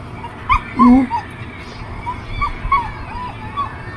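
A dog on a rural property with garden plants, giving a few short yips and whimpering barks at moderate distance, irregularly spaced over a steady outdoor background.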